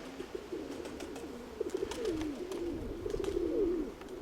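Pigeons coo steadily in a low, rolling murmur over soft outdoor background noise, with several overlapping calls running throughout at moderate distance.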